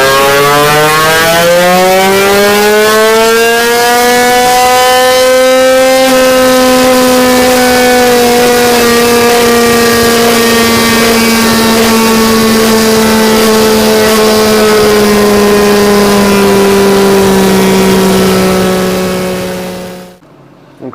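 A 15 hp outboard engine running without its air box holds a loud, steady buzzing drone, its pitch climbing briefly at the start and then staying high and even before cutting off abruptly at the end.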